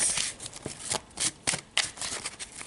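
A deck of past life tarot-style reading cards shuffled by hand, a quick run of soft riffling flutters and taps, close and quiet, with no talk.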